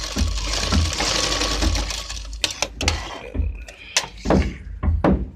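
A sewing machine whirs through a single straight line of stitching along the neck strip of a patti-style neck design, then gives way to loud, close thunks and knocks of handling.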